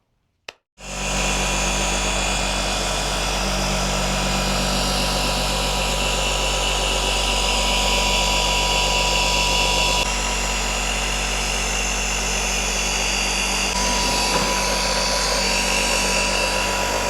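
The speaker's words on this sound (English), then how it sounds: "you can purchase flex tools like my polisher right here. This one is the gear-driven dual action 8mm throw, more known as the Beast" A Flex gear-driven dual action polisher with an 8mm throw, known as the Beast, works car paint with a loud, steady motor whine and hum that starts abruptly after a short silence and runs continuously with slight shifts in load.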